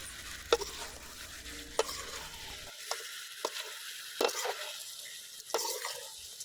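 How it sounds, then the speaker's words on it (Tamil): Chicken being stirred with crushed chilli flakes in a frying pan for a pepper chicken fry: a steady sizzle broken by repeated sharp scraping strokes of the spoon against the pan, close and alone. "சேர்த்து நல்லா பரட்டி விடுங்க. ஏன்னா கறியோட ஃபுல்லாக மிக்ஸ் ஆகணும்."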